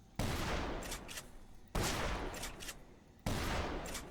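Three heavy shotgun blasts in Dead Island Definitive Edition with a firearms overhaul mod, fired from the hip at an even pace about 1.5 seconds apart, each a sharp loud boom trailing into a ringing decay and mechanical clatter.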